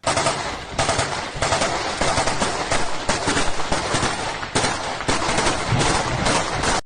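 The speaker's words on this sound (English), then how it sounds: "these guys are acting like it's some kind of a World War II movie where they're just in the open firing off their guns in a large group" Soldiers fire guns in combat near Bakhmut in Ukraine, loud dense bursts of rapid automatic gunfire overlapping in quick succession with brief gaps, no speech.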